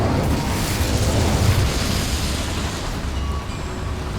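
Incendio fire spell cast in Hogwarts Legacy, a loud sustained fiery roar with a heavy low rumble and broadband crackle that holds steady for several seconds, then eases slightly near the end.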